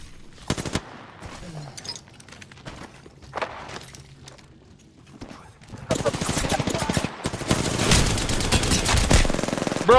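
Multiplayer shooter video game gunfire: scattered single shots and short bursts early on, then dense, loud automatic fire rattling almost continuously through the second half, with voices talking over it.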